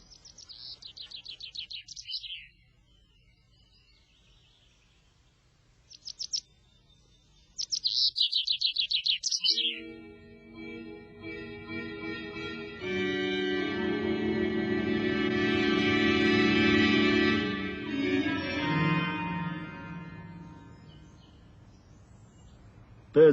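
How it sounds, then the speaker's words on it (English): Fast, high chirping birdsong in bursts for the first ten seconds, then giving way to a sustained busy musical passage. "Birds sing very fast, very high, and in no definite pitch."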